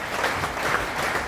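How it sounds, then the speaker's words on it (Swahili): Applause for Bishop Wanderi at a church gathering in Kenya, a steady, dense crowd clapping that holds at an even level for the whole stretch. "Tumpigie Bishop makofi."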